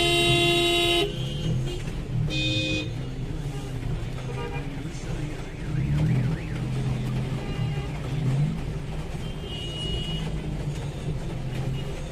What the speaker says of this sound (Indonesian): Jadi inilah kondisi jalan di Indonesia, macet walaupun ini hari Jumat.